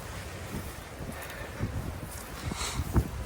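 Morning wind blows outdoors and buffets the microphone in uneven rumbling gusts, with a louder thump near the end and no voices.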